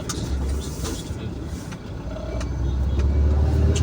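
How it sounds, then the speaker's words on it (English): A Suzuki Cultus car passes close by on a road, its engine and tire noise swelling into a steady rumble as it goes past, with brief speech nearby. "This car that's passing by is called a Cultus. It just went by."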